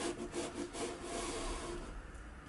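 Radius block sanding rubs back and forth along a guitar fretboard during an Oscar Schmidt setup, a soft, close, rhythmic scraping of fairly low loudness with no talk.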